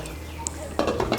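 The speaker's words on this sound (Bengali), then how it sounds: "এখন আঁচটাকে মিডিয়াম করে আবার 2 মিনিটের জন্য ঢেকে দেব।" A lid being set on a cooking pot of Bengali dudh shukto, heard as a brief cluster of close metallic clanks and clatters near the end after a quieter stretch, with no talk.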